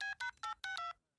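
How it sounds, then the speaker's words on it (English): A cell phone number is dialed as a quick run of about six distinct DTMF beeps, clear and close, ending abruptly in silence. "I'm gonna call Mahmoud right now on this cell phone he gave me"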